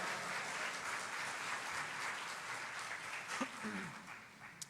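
Church congregation applauding during a Spanish-language Pentecostal service, a steady mass of clapping that gradually thins out toward the end, with a few stray voices underneath.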